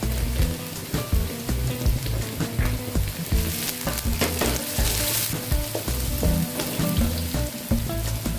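Spring onion stalks sizzle and crackle in a hot pan with sliced chillies, a busy, close frying hiss broken by repeated stirring scrapes.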